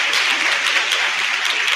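Church congregation clapping at Sunday Mass to thank a teacher: a loud, close, continuous crowd applause, thick and steady from start to finish without any speech on top.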